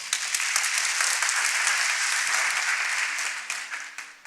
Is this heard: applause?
yes